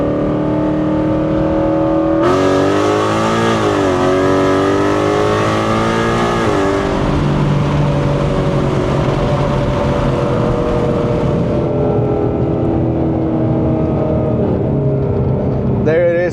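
A loud Ford Mustang accelerates hard in second gear from 40 to 85 mph, its engine roaring and rising steadily in pitch from inside the car before easing off near the end.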